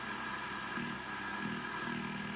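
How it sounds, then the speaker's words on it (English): A BC348 shortwave receiver with a dynamotor, tuned to the 40-meter band, gives off a steady wash of radio interference, an even static hiss with a low hum beneath it and no voices. "A little interference there."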